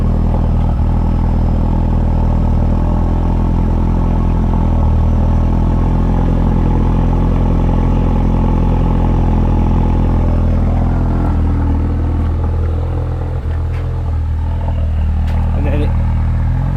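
An RS motorcycle engine with coolant leaking into it runs steadily nearby, a loud, continuous low rumble with light mechanical clatter, dipping slightly toward the end.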